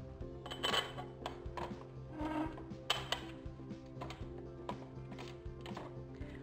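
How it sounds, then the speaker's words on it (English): An Allen wrench tightens a screw and washer while a EuroFit Cascade merchandiser shelf unit is assembled, producing soft, close metallic clicks and ratcheting taps repeated at an irregular pace, faint overall. "using the included screw and washer and Allen wrench,"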